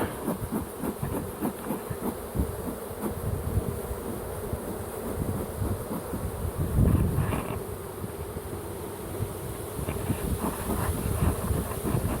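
Honey bees swarm around an open hive during honey frame collection, a continuous dense buzzing with steady hum and faint clicks, close and unbroken for the whole span.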